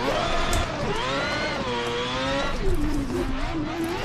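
Rotary-engined Toyota Supra A90 in Assetto Corsa, its four-rotor engine droning loud and near with pitch sweeping up and down as the car shifts and slides, tire noise mixed underneath.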